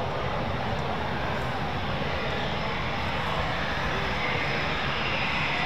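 An RAF Eurofighter Typhoon FGR4 fighter jet at the QRA station at RAF Coningsby produces a steady, loud, broadband engine roar that holds constant throughout with no break.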